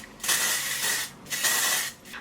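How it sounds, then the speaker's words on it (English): Two bursts of hair texturizing spray hiss from an aerosol can, each about a second long with a brief pause between, close and fairly soft. "Bounce Texturizing Spray."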